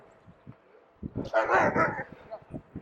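A dog heard from a recumbent trike on an outdoor ride gives a short burst of barks, close and fairly loud, with a few softer yips before and after.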